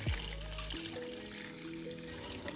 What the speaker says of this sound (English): So we're going to add some water to this.